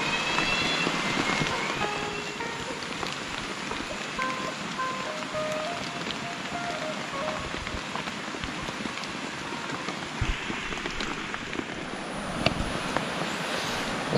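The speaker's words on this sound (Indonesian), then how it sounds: "Nih, hujan turun." Steady rain falls on a campsite during the rainy season, a dense continuous patter of drops on surfaces with no talking.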